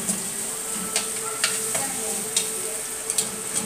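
Onion sizzles and fries in a pan alongside chicken, a steady close crackle broken by a few sharp utensil ticks and stirring clicks, with no talk.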